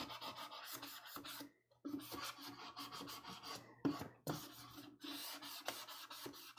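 Close, quiet rasping strokes of sandpaper rubbing a surface, repeated in uneven bursts with brief pauses between them.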